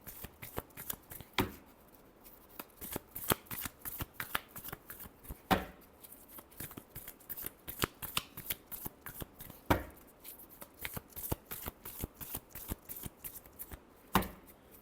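Tarot cards are shuffled by hand during a love reading, a long run of crisp riffling and slapping bursts close by, quiet between strokes, with no talking.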